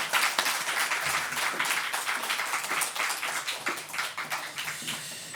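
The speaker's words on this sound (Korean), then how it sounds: "목사님 나오실 때 환영하는 박수" Congregation applauding in a church to welcome a pastor to the pulpit before a sermon, a steady wash of many hands clapping at moderate loudness throughout, with faint voices mixed in.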